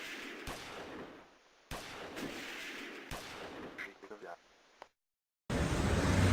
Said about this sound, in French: Quelques minutes plus tard dans la prison, des coups de feu retentissent, comme en témoigne cette vidéo amateur.